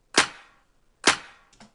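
A layered clap sample made in FL Studio fires twice about a second apart, each hit a crisp, bright snap with a short decaying tail, followed by a small double flam at the end.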